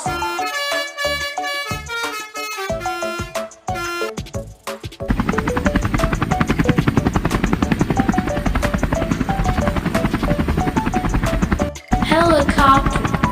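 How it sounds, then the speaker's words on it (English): Helicopter rotor thumping in a fast, dense beat that grows louder and fuller after a stretch of musical tones, continuing steadily with a brief dip near the end. "Helicopter."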